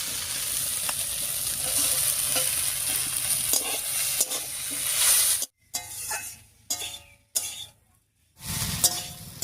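Fried eggplant stirred into sweet potato greens sizzling in a pan, a steady loud hiss with scraping stirs, broken by a few brief silent gaps near the end.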